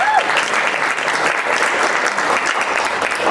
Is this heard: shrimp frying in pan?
no